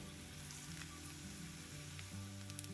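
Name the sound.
dry red chillies and cumin frying in oil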